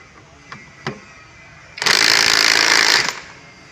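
A ratchet or power tool tightens a 10 mm bolt near the magneto on an XR 200 motorcycle engine, with two faint clicks and then a loud, close, continuous rattling burst lasting about a second.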